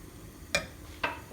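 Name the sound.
stirring meat broth sauce in a pan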